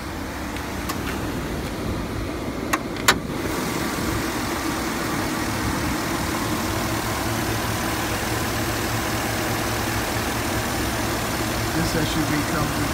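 A 6.0 V8 in a 2013 GMC Yukon Denali AWD SUV idles steadily with the hood up, a constant low rumble lasting throughout, with a couple of brief clicks near the start and a voice speaking over it.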